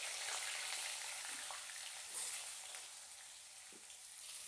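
Potatoes sizzling steadily in hot oil with a dried red chilli tempering, cooked for a vegetarian cauliflower curry: a constant, fairly soft frying hiss with small pops and no voices.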